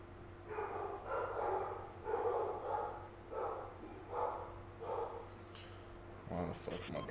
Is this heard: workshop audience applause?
no